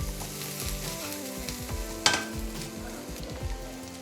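Butter sizzles and fries in a hot pan for paneer butter masala, a steady crackling hiss with stirring scrapes and one sharp pop midway, close and moderately loud with no talk.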